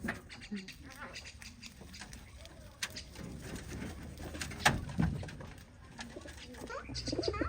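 Pigeons cooing softly from a pair sitting together on a perch at a home in Bangladesh, with faint coos and rustles amid quiet background household noise and voices.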